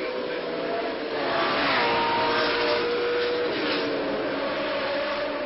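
A racing car rolls past slowly at the 1963 Monaco Grand Prix, its engine a steady, fairly close drone that swells slightly and then holds, with no voices.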